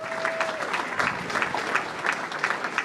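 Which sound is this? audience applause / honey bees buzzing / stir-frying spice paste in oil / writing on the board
audience applause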